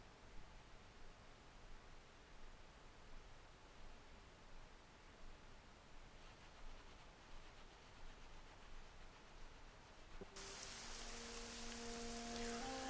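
Steady rain falling on neon-lit city streets in the video game Shadowrun: Hong Kong, a soft continuous hiss that swells louder near the end, where sustained electronic tones join it.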